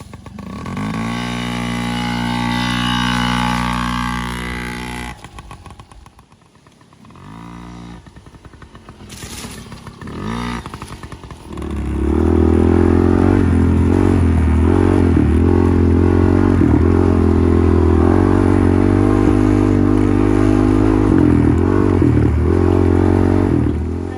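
A small motorbike is ridden. After a quieter, uneven start with clatter and pauses, the engine settles into a loud, sustained drone, rising and falling with revs as it pulls away.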